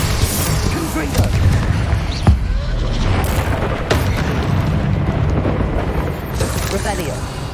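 Fiery spell blasts in the game Hogwarts Legacy burst out in a dense, loud barrage of booming explosions and crackling impacts, with several sharp hits standing out over continuous rumbling chaos.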